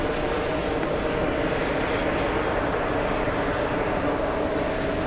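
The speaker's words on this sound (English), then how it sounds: "Go over to the 767 on the move." A Boeing 767 airliner on the move gives a steady, broadband jet roar with a faint high whine, loud and continuous throughout with no talk.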